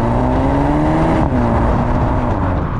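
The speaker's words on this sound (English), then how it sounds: "I can kind of hear little cracks and pops from the exhaust at times." A 2022 Volkswagen Golf GTI engine drones and revs loudly from inside the cabin, pitch sliding as it accelerates, with a brief dip midway; no distinct pops stand out.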